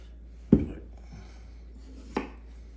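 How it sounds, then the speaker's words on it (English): A knife chops through potatoes on a board for fondant potatoes, two sharp, close cuts about a second and a half apart, with quiet kitchen background in between. "now that the potatoes are cut"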